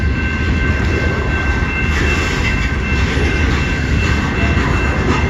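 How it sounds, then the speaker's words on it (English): A southbound CN freight train passes on the Rockwood shoreline line, a steady, loud rumble of rolling cars with bright wheel and rail hiss running unbroken throughout, close by and with no voices. "Being southbound train on the shoreline south."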